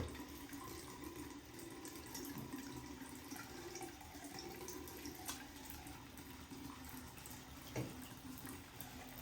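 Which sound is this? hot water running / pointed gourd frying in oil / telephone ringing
hot water running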